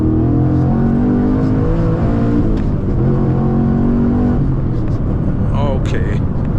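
A Camaro Z/28 with an LS7 engine pulls hard through second gear, its loud, rising engine roar dominating from inside the car, with the tone shifting partway through as revs build.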